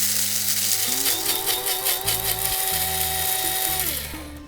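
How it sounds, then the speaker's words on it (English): A small electric spice grinder whirring through annatto seeds, a close loud motor whine with rattling seeds and shifting pitch, winding down at the end, no talking. "I'm going to put the annatto seeds in the little spice grinder here."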